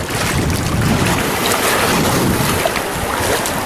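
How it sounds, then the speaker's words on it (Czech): Sea waves reach a sandy beach at Rostock, Germany, as a broad, continuous close wash of surf mixed with strong wind buffeting the microphone, without talk. "No a vlny už dorazily."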